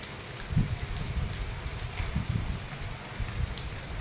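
Rain falls steadily on school grounds and surrounding trees, a continuous patter with occasional heavier drips and splashes close by. There is no talking.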